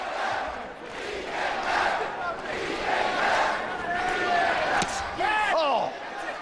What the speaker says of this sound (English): And just listen to the crowd.